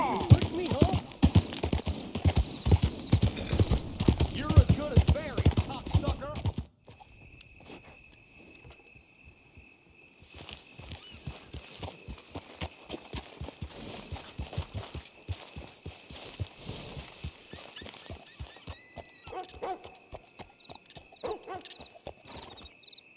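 Horse hooves clip-clop in a steady rhythm in the video game Red Dead Redemption 2, loud and close at first over a busy mix, then continuing more softly alongside chirping insects.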